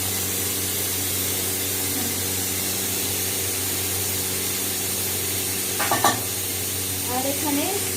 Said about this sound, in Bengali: চিকেনটা কষাতে দিলাম